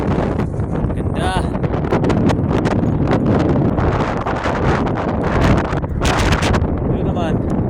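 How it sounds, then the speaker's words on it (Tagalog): Strong wind roars and buffets the microphone in a steady, loud rush, with brief faint voices underneath. "Ang lakas ng hangin."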